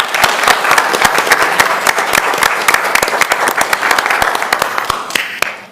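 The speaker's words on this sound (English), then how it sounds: "So let's give him another round of applause." City council meeting audience applauding an award recipient, loud dense clapping from a room full of people with sharp individual claps standing out, sustained throughout and tapering at the end.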